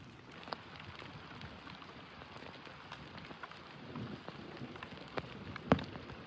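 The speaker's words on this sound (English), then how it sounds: "Good to have some rain though, y'all." Steady, fairly faint rain falls outdoors in the countryside during a thunderstorm in South Dakota, with a soft continuous patter and a few sharper drop hits.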